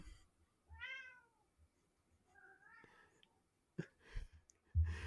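A house cat meows twice at close range, with a longer, rising mew followed a second later by a shorter one, over a quiet indoor background with some soft talk and thumps.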